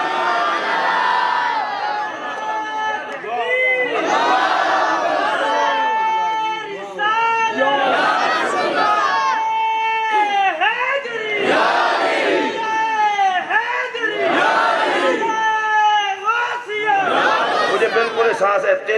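A large crowd at a religious gathering answers a slogan chant, with repeated loud bursts of many voices shouting in unison, each call and response separated by short gaps, filling a big reverberant space.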